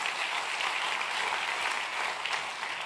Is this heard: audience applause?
yes